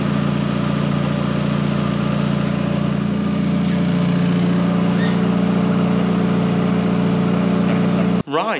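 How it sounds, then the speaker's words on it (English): A turbocharged Nissan Micra K11 engine runs steadily for about eight seconds with a loud, continuous low hum and rough idle texture, stopping abruptly near the end. "we'll just go ahead and start the engine, make sure we've got no nasty leaks or anything"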